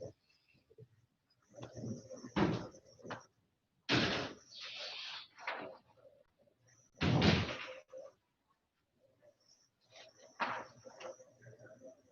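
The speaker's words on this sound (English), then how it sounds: "That's the door." A door opens and closes at a municipal parks and recreation meeting, giving several loud, close thuds and knocks in separate bursts across the stretch, with quiet gaps between them.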